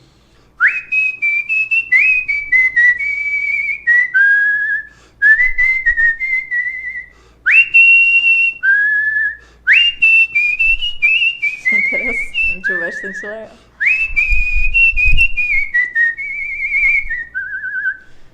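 A man famed for imitating birds whistles a bright, warbling tune in repeated phrases with short pauses, loud and close, with brief quiet speech near the end.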